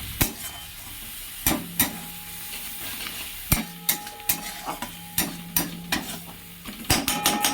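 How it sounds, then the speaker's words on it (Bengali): Turmeric, cumin and coriander powder spice paste with a splash of water sizzles in a pan for a vegetable and bori curry, while a spatula scrapes and stirs in a steady series of sharp clacks and scrapes, close and without talk. "মশলা একটু ভাজা ভাজা হোক।"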